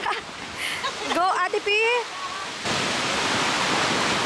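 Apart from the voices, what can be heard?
ocean waves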